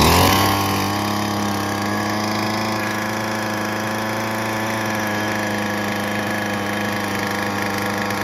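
Small two-stroke string trimmer engine running steadily after being started with a drill, a loud, even buzzing drone that holds constant with no talking.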